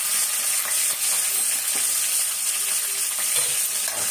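Curry leaves and cashew nuts fry in hot oil in a pan, giving a loud, steady sizzle with crackling bursts and faint stirring scrapes throughout.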